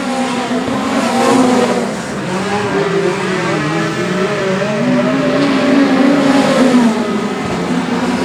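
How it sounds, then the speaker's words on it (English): Speedcars racing around a dirt track as the field comes around, a loud, sustained engine roar with rising and falling revs of several cars passing, no talk. "as their field's coming around to put that lap down on Trevor Reeks"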